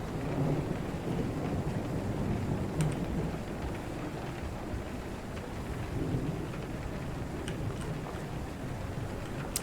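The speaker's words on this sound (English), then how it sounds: "Thunder sounds pretty good." Thunder and rain in the Train Sim World 4 video game: a continuous wash of steady rainfall with low thunder rumbles rolling through, heard alone at a moderate, even level.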